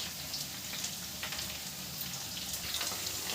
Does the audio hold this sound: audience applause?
no